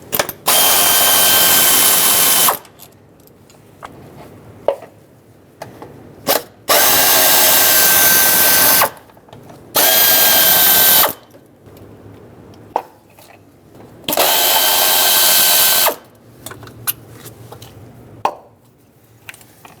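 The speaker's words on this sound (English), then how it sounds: "use a 7mm socket and remove the bolts that hold the ignition coils onto the valve cover" Power tool spinning 7mm socket bolts holding ignition coils to the valve cover on a 2008-2010 Ford F-250 with a 5.4L engine, sounding in four loud, steady bursts of about two seconds each, separated by quieter clicks and handling noise.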